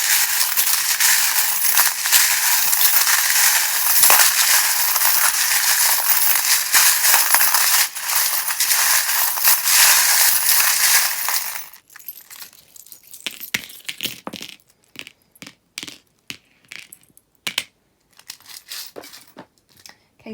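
Tarot deck with charms being shuffled by hand, a dense, continuous crinkling, clattering rustle for about twelve seconds, then scattered sharp clicks and taps of charms settling, close and fairly loud.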